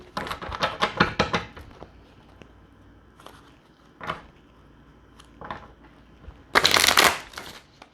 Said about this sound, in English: Those ones are a little tough to shuffle.